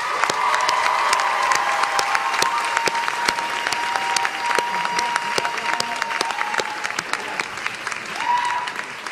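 Graduates at a UCLA commencement ceremony applaud their families, a broad, steady wash of clapping from a big crowd with sharp individual claps standing out and a few faint cheers mixed in, lasting about nine seconds.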